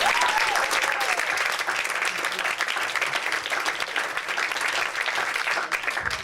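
An audience at a live event applauds without a break, a dense sustained clapping that fills the space from start to finish.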